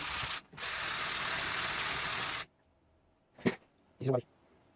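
A continuous harsh rasp of sanding on a Stark sigil build runs for a couple of seconds with a brief pause, then stops, followed by short bursts of voice.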